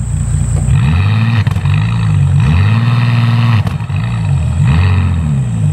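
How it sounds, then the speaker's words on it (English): Bentley Continental SuperSports exhaust revved in neutral, several loud close blips rising and falling in a repeating pattern, each rev held briefly before dropping back to idle. "here is me attempting to show you what it sounds like."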